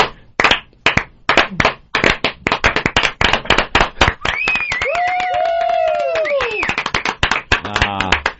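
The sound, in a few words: slow clap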